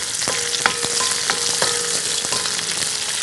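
Onions hiss and sizzle in a hot pan during a quick stir-fry for chicken fillet with vegetables and noodles, a steady bright crackle broken by several sharp scraping stirs, close and alone with no talking.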